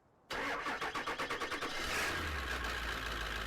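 A Dodge truck in Farming Simulator cranks with a quick run of rhythmic starter pulses, then catches and settles into a steady, close, low engine idle, heard alone.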